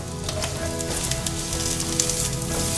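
Sliced king oyster mushrooms and carrots stir-fry in oil left over from frying tofu in a wok, giving a loud, close, continuous sizzle broken by scraping clinks of the spatula stirring, with no talking.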